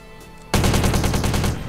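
An MP5 submachine gun in Call of Duty Black Ops fires a rapid, loud burst of about a second after a short quiet lead-in, shots evenly spaced and close, with no speech.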